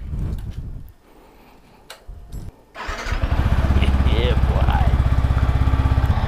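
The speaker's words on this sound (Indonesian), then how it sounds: "ini kita putar dulu mesinnya" A motorcycle engine starts after some talking and then idles steadily to spin the drive chain during cleaning, its loud even throb running to the end with a voice over it.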